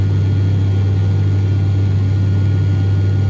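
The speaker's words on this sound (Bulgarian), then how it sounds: "отзад на витловия самолет бръмчението си е съвсем приемливо" Inside the cabin of a propeller airliner on a flight from Sofia to Burgas, the engines give a loud, steady, low drone with a strong constant hum and no talk.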